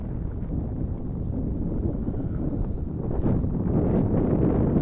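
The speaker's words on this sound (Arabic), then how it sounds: "جو دافي جدا رغم ان فيه هواء، بس هواء دافي جدا" Warm wind blows beside the Nile river, a steady broad rush buffeting the microphone, with faint repeated high chirps above it.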